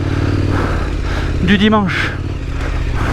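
A motorcycle engine hums loud and steady while riding a trail, with a brief rising rev in the middle, as someone talks over it throughout.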